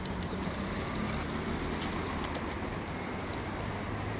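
Domestic pigeons coo softly against a steady wash of background noise, their low calls faint and partly buried, no one speaking.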